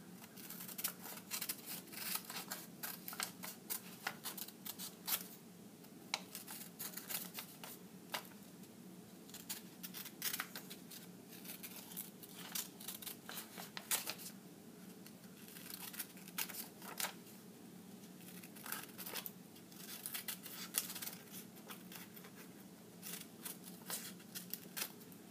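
Scissors cut a paper shape out for a hand-drawn map in an art studio, a quiet close series of crisp snips and paper rustles in irregular bursts over a faint background hiss.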